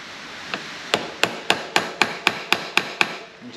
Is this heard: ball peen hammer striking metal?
yes